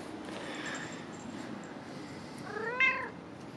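A cat being petted gives one short, clear meow near the end, close and moderately loud over a quiet, steady background.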